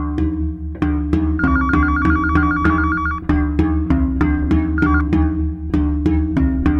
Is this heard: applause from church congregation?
no